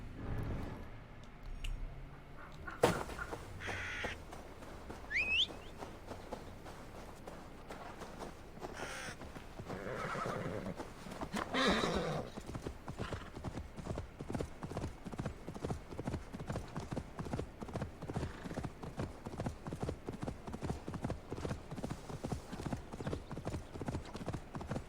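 Steady clip-clop of horse hooves trotting at an even rhythm in Assassin's Creed Valhalla, with a brief whinny and crow-like caws early on, a game soundtrack feel.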